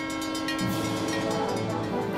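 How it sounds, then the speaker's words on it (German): A cartoon train in Tayo the Little Bus rolls past loudly with a sustained horn-like tone over a rumbling, rolling drone, with no voices. "Hey, da ist der Zug."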